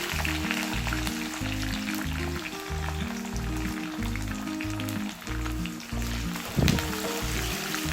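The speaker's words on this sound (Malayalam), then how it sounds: "ഇതിലേക്ക് 1 ടീസ്പൂൺ കടുക് പൊട്ടിയ ശേഷം ഇഞ്ചി, വെളുത്തുള്ളി, കാന്താരി മുളക്, കറിവേപ്പില," Ginger, garlic, kanthari chillies and curry leaves frying in hot oil after mustard seeds splutter, a continuous close sizzle with crackle and a steady low rhythmic thumping underneath, one sharper clatter near the end, no voices.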